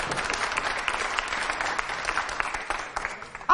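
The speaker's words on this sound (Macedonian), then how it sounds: "Да студиото да ечи, да слушнеме најгромогласен аплауз" A studio audience at a school programme applauds with a dense, even patter of many clapping hands that holds steady for a few seconds at moderate loudness.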